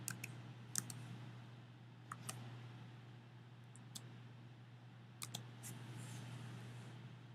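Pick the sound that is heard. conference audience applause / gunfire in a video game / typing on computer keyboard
typing on computer keyboard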